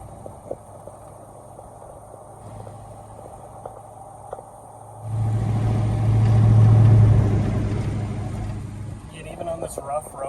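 A 1969 Chevelle SS drives down a rough road. The engine sits low and quiet at first, then swells into a steady, louder rumble as the car pulls along, with a voice speaking over it.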